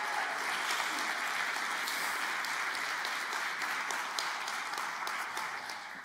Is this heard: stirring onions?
no